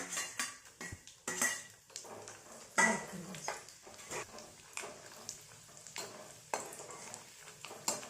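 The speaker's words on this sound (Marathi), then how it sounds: "हे जे ड्राय फ्रुट्स आहेत ना ते तुपात परतून घेऊ" Dry fruits being stir-fried in ghee for sheera, with a spoon clinking and scraping against the pan in irregular bursts of stirring, fairly close and moderately quiet, and no talking.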